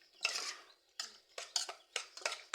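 Utensil stirring food in a bowl while preparing Lao spicy pork intestine salad, a series of scraping, clinking strokes in irregular bursts, close and fairly quiet.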